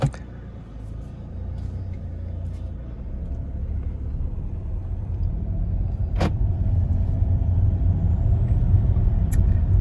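A Mercedes W204 car with a boost leak accelerates hard. A deep, close engine roar builds steadily over the whole stretch, a sharp transient cuts in briefly midway, and no one speaks.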